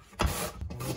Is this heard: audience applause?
no